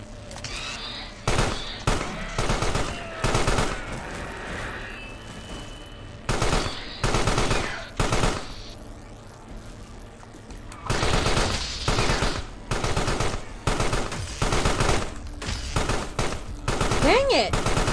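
Soldiers fire guns in the video game Carrion: loud bursts of automatic gunfire come in repeated volleys, with short pauses between them, all through the scene.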